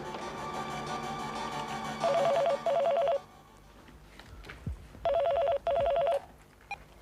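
A telephone in a Hindi TV serial scene, rhythmic ringing in two paired bursts separated by quiet, heard clearly over a low room background, with a faint electronic tone before.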